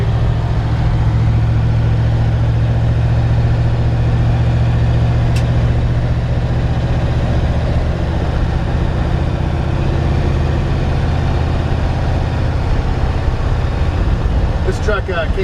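A 1948 Ford F1 truck drives along with a steady low engine drone and road rumble that hold constant and loud throughout, while someone talks over the noise.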